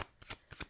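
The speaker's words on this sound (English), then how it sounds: "I heard it's okay to shuffle this one like this." Tarot cards riffle and slap in a quick, close shuffle, a few soft flicking bursts in under a second.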